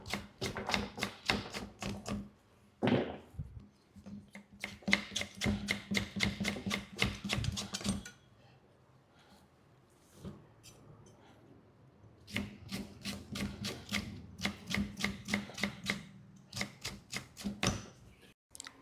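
Knife chopping ingredients on a cutting board while preparing mango dal, in fast rhythmic bursts of sharp taps separated by short pauses, heard close and alone.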